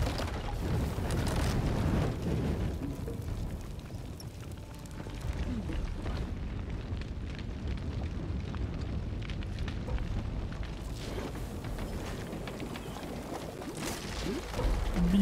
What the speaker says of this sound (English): now to bring that barrier down. Let there be fire.